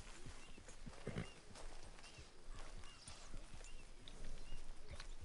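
Horse hooves clopping in Red Dead Redemption 2, a steady run of soft, irregular hoof falls over constant outdoor game ambience, mid-distance and fairly quiet.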